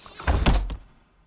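A door opening in a house entrance, a short close wooden thunk and rattle lasting under a second before fading into quiet.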